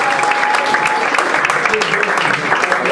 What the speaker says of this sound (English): give a hand of a round of applause for Mr. Steve Cody